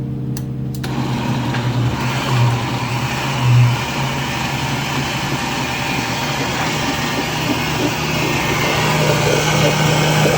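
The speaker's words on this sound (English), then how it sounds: "We have a blender going with hot stuff in here" A kitchen blender whirs steadily while blending hot birria sauce, a loud continuous motor roar that starts abruptly and holds for several seconds with a slight rise in pitch toward the end.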